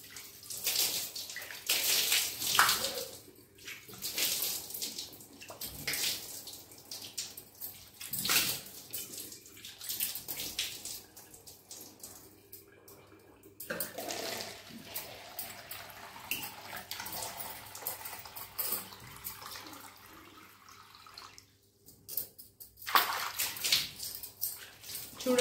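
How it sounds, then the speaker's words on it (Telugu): Water is splashed and poured over a bathroom surface to rinse off a scale and stain cleaner, in irregular close bursts of gushing and trickling with brief quiet gaps. "ఇప్పుడు నేను క్లీన్ చేస్తున్నాను వాటర్ వేసి"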